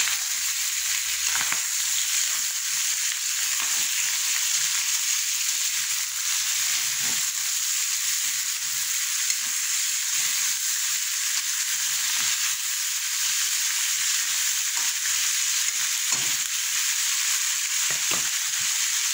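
Kare-kare ingredients sautéing in a pan, a steady loud hiss of frying that runs throughout with occasional soft stirring knocks and no voices.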